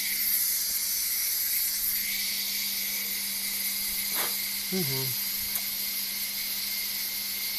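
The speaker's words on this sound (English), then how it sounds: "She's still draining steam." A pressure cooker in a home kitchen hisses steadily as it vents steam after cooking, a continuous airy hiss with a faint steady hum and a brief squeak partway through.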